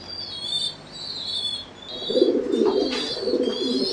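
Pigeons in a cage at a pigeon farm coo in soft, repeated low calls, fairly close, while faint higher chirps sound intermittently in the background.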